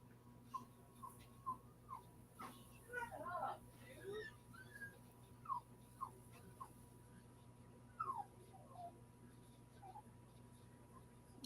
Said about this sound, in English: I hear puppy whining.